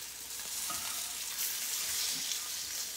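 Saltimbocca frying in olive oil in a pan, a steady close broadband sizzle that runs throughout with small crackles and no voices.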